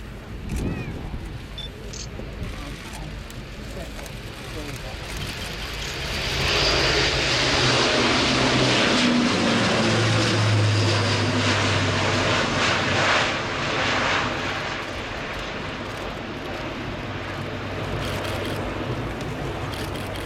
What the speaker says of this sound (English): Airbus A400M.